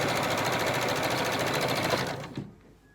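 A sewing machine runs fast and steady, stitching along the raw edge of a fabric mask, its rapid mechanical whir continuing for about two seconds before it slows and stops.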